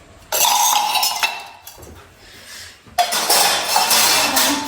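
Dishes, pots and utensils clatter loudly in a home kitchen, in two bursts of clanking and clinking with a quieter scrape between them, up close and with no talking.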